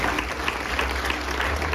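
Audience applause at an embassy tribute event for José Martí, a steady dense wash of clapping from a crowd filling the room throughout.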